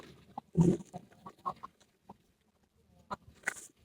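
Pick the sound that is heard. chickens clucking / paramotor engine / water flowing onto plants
chickens clucking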